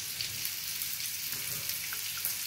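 Fish frying in a pan for a Marathi-style fish fry, a soft continuous hiss and sizzle with faint crackles, steady and fairly quiet.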